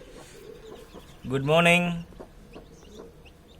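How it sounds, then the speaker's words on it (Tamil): A Siruvidai country hen with newly hatched chicks on a home farm gives one loud, drawn-out squawking cluck, while a person speaks briefly nearby. "சிறுவிடை கோழி இது இப்போ தான் மொட்டு வச்சு குஞ்சு பொறிச்சிருக்கு."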